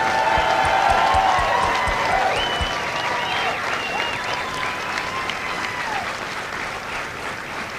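An audience at a Marine Corps Alpha Company graduation at MCRD San Diego applauds the drill instructors, a broad wash of clapping with some cheering that starts loud and slowly tapers while staying dense throughout.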